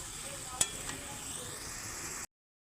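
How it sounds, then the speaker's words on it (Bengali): Taro cooked down in a pan with spices and water gives a steady soft sizzle, with one sharp utensil clink early on, before cutting off abruptly. "জল দিয়ে এখনও এক মিনিট দু মিনিট কষিয়ে নেব তবে ভালো লাগবে যাতে কচুতে একদম ঝাল মশলা ঢুকে যায় এখনও কষাতে থাকবো"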